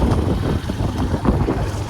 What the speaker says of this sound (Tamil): இன்னைக்கு தான் பார்க்குறேன் ரொம்ப காற்றடிக்குது.